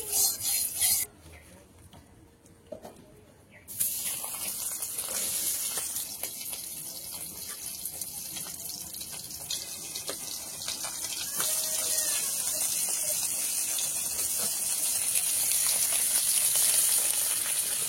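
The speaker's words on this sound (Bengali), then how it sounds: "এবার মাছগুলোকে ভেজে নেব" Fish coated in salt and turmeric fries in hot oil in a wok, giving a loud, steady sizzle. It is quieter for the first few seconds, then swells into a dense hiss without talk.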